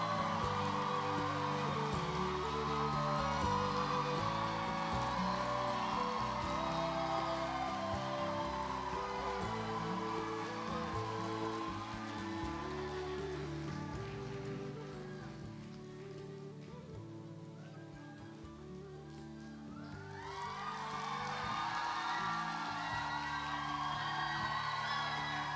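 An audience at the 2019 South-East Asia Peace Forum claps as a speaker is welcomed to the stage. The applause is dense and steady, eases for a few seconds, then swells again.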